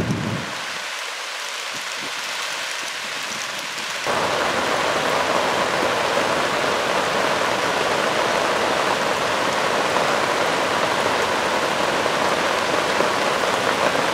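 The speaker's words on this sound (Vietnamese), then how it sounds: "Mưa to quá anh em ơi." Heavy rain beats down on a river during a fishing trip, a dense, steady roar of drops hitting the water that grows louder and fuller after a few seconds and then holds without a break.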